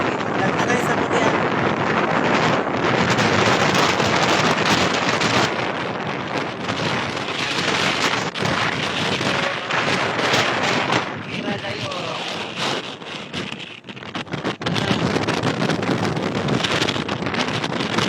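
Strong wind gusts buffet the microphone on a countryside road trip, a continuous loud roar and rumble across the whole clip, with a brief dip near the end before it surges back.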